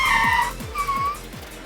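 A Japanese mini truck brakes hard, giving a sharp tire squeal that fades, then a second shorter screech, over a low engine rumble that sinks in repeated downward sweeps.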